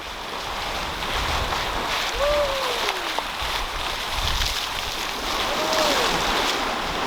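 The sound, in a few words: sailboat sailing through ocean waves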